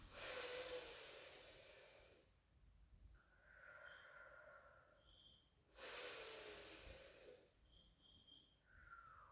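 Slow, deep breathing during a pilates exercise, two full cycles of audible nasal inhales and long exhales, faint and close with a quiet room behind.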